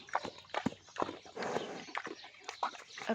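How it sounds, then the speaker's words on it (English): A pig crunches and chews a giant homemade brandy snap, giving irregular crisp, crackly bursts of eating noise at close range with short pauses between bites. "A pig with a giant brandy snap."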